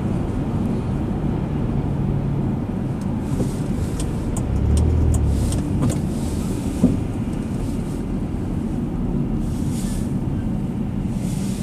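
A TAS Transport Limited heavy truck of Cheektowaga rolls past beneath a no-heavy-truck sign, a steady loud rumble of engine and tires swelling around the middle, with no talk.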